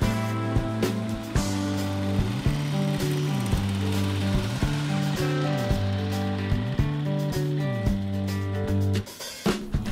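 A Jacobsen reel lawn mower scalping a rye grass lawn very short, a steady droning engine hum with rhythmic clattering of the cutting reel and repeated shifts in pitch, close and continuous, with no talking.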